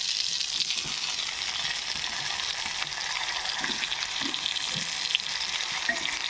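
Eggplant slices rubbed with salt, turmeric and raw mustard oil fry in a wok, giving a dense, even sizzle that holds steady close up, with a few faint clicks and no talking.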